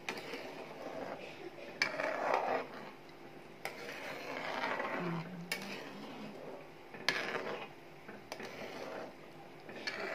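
Fish curry is stirred in a pot, with a spoon knocking and scraping against the metal in several distinct clinks, soft sloshing between them, heard close and fairly quiet with no speech.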